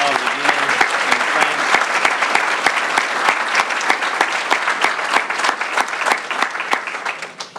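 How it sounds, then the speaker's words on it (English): A crowd at a bank branch ribbon-cutting gives Alderman Todd a hearty round of applause. The clapping is loud and sustained, with sharp individual claps standing out, and it tapers slightly at the very end. "Please give Alderman Todd a big round of applause again."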